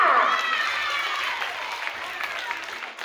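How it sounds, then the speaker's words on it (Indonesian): Applause at a primary school report card ceremony, a steady wash of clapping from a crowd of children and adults, moderately loud and continuous with a faint murmur of voices underneath. "Tepuk tangan semuanya"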